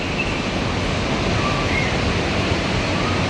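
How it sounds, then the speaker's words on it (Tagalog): Strong ocean waves crash and roar continuously near a beachfront hotel, a dense, steady wash of surf noise with no voices. "Lakas ng alon, no?"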